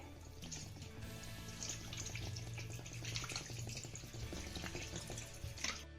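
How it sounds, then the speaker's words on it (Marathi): Cold water runs steadily from a tap, splashing and trickling into a bowl of spinach for several seconds, fairly quiet with no talking. "यामध्ये आपल्याला थंड पाणी घालायचं आहे"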